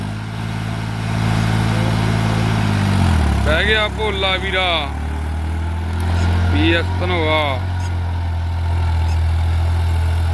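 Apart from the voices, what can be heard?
New Holland 3630 4x4 tractor engine running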